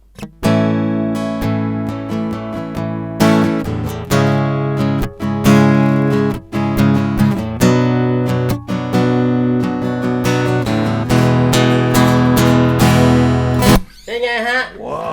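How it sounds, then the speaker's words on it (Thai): Acoustic-electric guitar (Paramount F650 CEQN) strumming chords in a lively rhythm through a clean direct signal via an interface, bright and close, with brief pauses between strokes and a few muted strums at the end. "ฟังเสียงไฟฟ้าอีกครั้งหนึ่ง แบบตีคอร์ดเลย"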